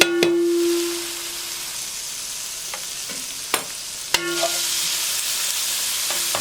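Vegetables sizzle in a hot frying pan as they go back in after burgers, a steady broadband hiss with a few sharp clinks and stirring knocks, loud at first then settling into an even sizzle.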